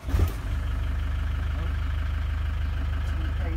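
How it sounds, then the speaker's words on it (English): A vehicle engine idles steadily with a low, even rhythmic throb that carries on throughout, after a brief louder knock at the start. "Just try the engine running."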